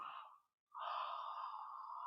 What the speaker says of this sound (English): please allow yourself to enjoy a good, real yawning